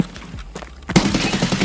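Gunfire in Escape from Tarkov, shooting from the street: a brief, sharp burst of shots breaks in after a quiet moment and rattles on to the end.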